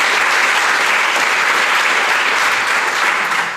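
Loud, sustained applause from a conference audience at a talk, dense and steady for the whole stretch before fading slightly at the end, with no voices over it.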